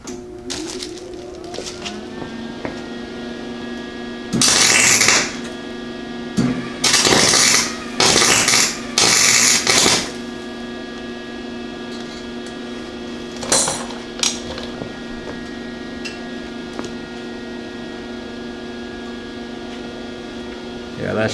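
A welder tacks a light bar mount onto a lifted Honda Civic, giving several loud bursts of crackling arc a few seconds long over a steady background hum, with short pauses between welds and a brief later burst.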